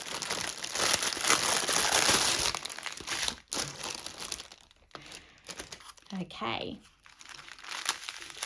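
Plastic packaging from a Diamond Dotz diamond painting kit crinkles loudly and close up in bursts of crumpling and rustling, with brief pauses, while someone speaks.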